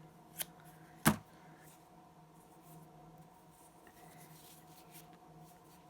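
Scissors snip once through a crocheted yarn tail after finishing a sunburst doily, a sharp close click standing out against a quiet room with no talk.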